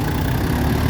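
A tractor engine idles with a low, steady rumble and faint vibration, close by and continuous, at a durian orchard.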